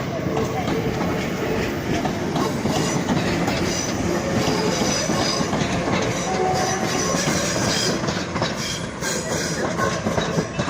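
A Class 319 electric multiple unit pulls out of Crewe station, a continuous loud rumble with rhythmic clickety-clack over rail joints and occasional wheel squeal close by.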